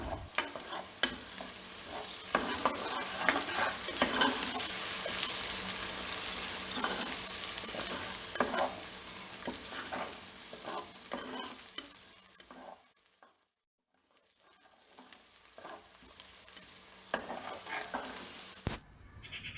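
A spice mixture with dried red chillies and their seeds sautés in a pan for coconut chicken. It gives a continuous sizzle with stirring scrapes, fades to near silence for a moment, then resumes. No one speaks.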